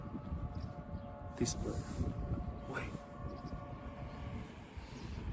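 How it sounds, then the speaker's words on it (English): An electric car gives off a train-like warning hum in an old town street: a steady low drone with faint tonal layers. A brief word is spoken over it. "but it is an electric car doing the sound"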